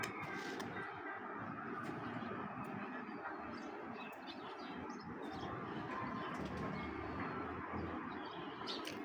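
Racing pigeons coo softly amid a low rumbling outdoor background, with faint wing flutters and distant mechanical noise, no clear talking.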